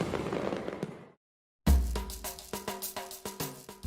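Firecrackers at the Fallas festival in Valencia: a burst of crackling, then a pause of near silence, followed by a rapid series of sharp loud bangs with short echoing tails, close by.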